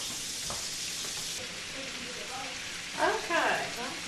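Chicken fried steak sizzles steadily in a frying pan, a broad continuous hiss with occasional pops, swelling louder near the end as the pieces are moved or turned.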